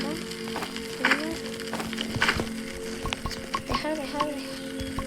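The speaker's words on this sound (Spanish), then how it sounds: "¿me puedes dejar los filetes? Ah, ya me los dejaste y todo cocinado." Steaks sizzling while cooking in the Roblox game 99 Nights in the Forest, a steady frying hiss with stirring clicks, loud and continuous, with a tonal game sound and brief talk over it.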